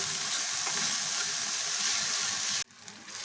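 Tomatoes, onion and garlic fry in a pan with a steady, dense sizzle that stops abruptly near the end, followed by faint kitchen noise.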